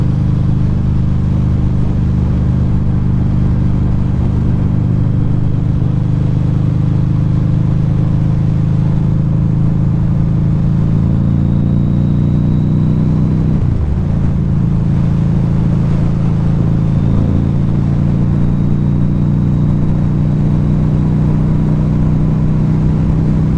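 A 2012 Harley-Davidson V-Rod Muscle motorcycle engine drones steadily while riding, a loud, continuous low rumble with a brief dip and gear-change shift partway through, no voices over it.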